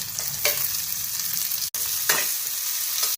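Capsicum, carrot and peas sizzle loudly with onion in a hot pan, a steady frying hiss broken by scraping stirs and a couple of brief dropouts.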